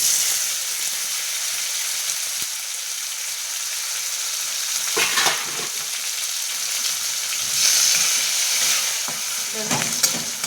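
Chopped tomatoes and green chillies fry in a pan for khichdi, giving a continuous crackling sizzle with occasional louder bursts of spatter and stirring scrapes, close and steady with no voices.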